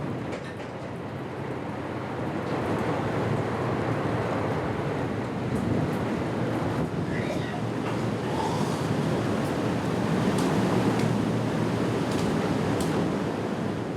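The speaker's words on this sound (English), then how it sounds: "Huge waves rock the humanitarian ship to and fro." Rough sea surging against a humanitarian rescue ship on the Mediterranean, a steady loud wash of wave and wind noise with hull rumble running throughout, no voices.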